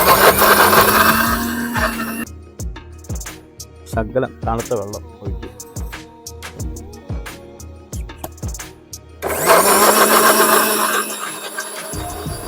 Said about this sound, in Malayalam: അങ്ങനെ ഇത് നല്ലപോലെ മിക്സിയിൽ അടിച്ചെടുക്കാം